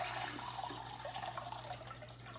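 Water poured into a measuring cup during a lesson on estimating milliliters and liters, a quiet, continuous trickling pour over a steady low hum, with no talking.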